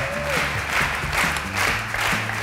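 An audience claps at a live talk-show taping, a continuous ripple of applause that stays even and moderately loud all the way through.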